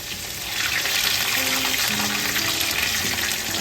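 Potato pieces fry hard in hot oil for a Tunisian lamb mosli, a loud, dense, continuous sizzle close by with faint scraping as the pieces are turned.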